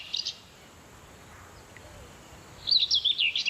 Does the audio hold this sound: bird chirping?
yes